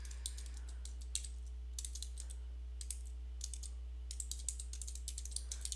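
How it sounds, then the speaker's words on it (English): Keys on a computer keyboard tap in quick bursts of clicks, pausing between phrases, close and fairly quiet over a steady low hum while text is typed into Photoshop. "I'm going to left click and drag, and I'm going to start typing."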